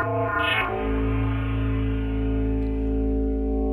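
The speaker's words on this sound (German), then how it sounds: "Durch die Wavetable mich durch bewegen. Und das mache ich jetzt mit einem LFO." Rich harmonic synth tone from a wavetable synthesizer, modulated by an LFO so its timbre shifts and bends early on before settling into a dense sustained drone, loud and alone.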